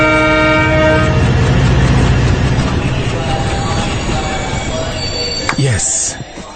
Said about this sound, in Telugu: జస్ట్ ఇప్పుడే ట్రైన్ ఎక్కి కూర్చున్నాను.